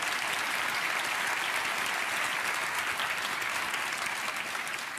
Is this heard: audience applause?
yes